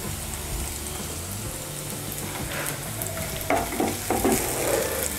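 Chopped green chillies go into browned onions frying in a pan, a dense sizzle and crackle with stirring scrapes and clatter toward the end, close and fairly loud, no voices.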